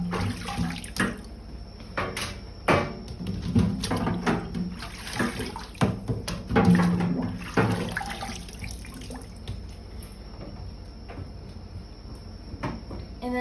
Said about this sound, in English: now we'll take the drying racks and dip them in